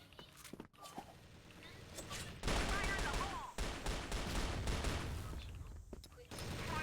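A Gatling gun in a video game fires long rattling bursts of rapid gunfire mixed with other shots, loud and dense, with a player talking over it.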